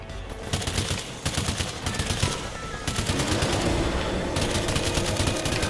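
Rapid automatic gunfire from the co-op shooter game Earthfall rattles in dense, sustained bursts with short gaps, loud and close, with no talking.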